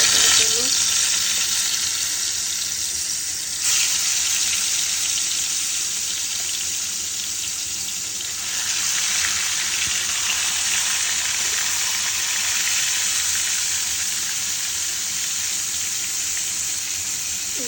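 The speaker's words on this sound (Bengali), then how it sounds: "কড়াই দিচ্ছি, তাহলে মাছগুলো ভেজে নেবো।" Fish frying in oil in a wok: a loud, continuous sizzling and crackling hiss with occasional soft clinks, close up and without talk.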